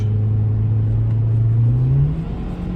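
A Hyundai i20 with a 1.4 MPI engine pulls uphill at full throttle, a steady close engine drone rising gradually in pitch as it revs, continuous with no talk.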